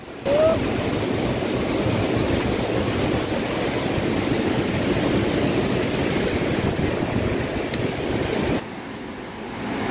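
Dhuwa Chhanga waterfall on the Kaguwa river pours in a steady, dense roar, loud and continuous from nearby with no break for the full stretch.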